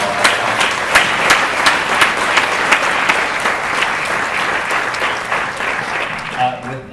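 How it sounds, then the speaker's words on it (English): An audience at a keynote session of a livability summit claps loudly and continuously for about seven seconds. The applause dies away at the end. "please join me in a round of applause"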